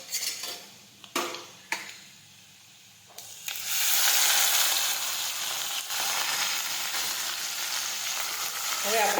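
Boiled fenugreek leaves drop into a hot oiled pan with curry leaves and asafoetida, setting off a loud, steady sizzle after a few sharp clanks of utensils.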